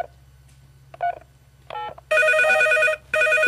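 A few short tones are followed by a loud, steady electronic telephone ring on a Polish TV game show, pausing briefly and then starting again.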